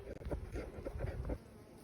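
Bees buzzing at an open beehive during a check of brood and capped honey, a low, wavering drone close by, fairly faint and brief.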